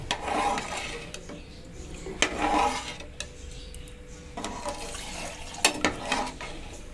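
Coconut milk poured into a pot while making ghee rice: close, splashy pours come in a few bursts separated by short pauses, with no talking.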